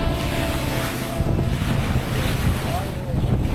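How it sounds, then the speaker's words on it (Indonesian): A sailing boat motors across open sea on its outboard engine into a strong headwind. Loud, continuous wind buffeting and surf noise dominate, with the engine drone blended into the rush. "kapal berlayar menggunakan mesin"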